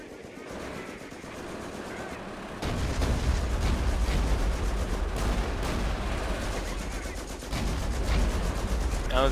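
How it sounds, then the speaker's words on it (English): Grenade blast followed by sustained gunfire in a Company of Heroes battle with the Blitzkrieg mod, loud dense rumbling and crackling shots continuing throughout, with a player's voice occasionally over the combat. "I'll throw a grenade at this building"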